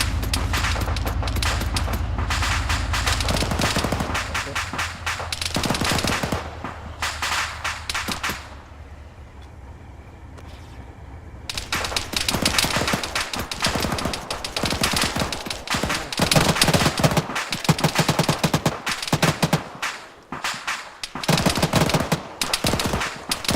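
Heavy machine gun fire in Modern Warfare, long loud rattling bursts of rapid automatic shots with a short quieter lull midway, then dense sustained firing and scattered cracks.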